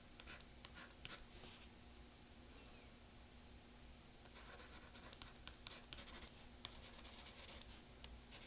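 Ballpoint pen tip scratching across the textured screen of a reMarkable Paper Pro e-ink tablet, a soft, close, continuous scribbling with brief pauses between strokes.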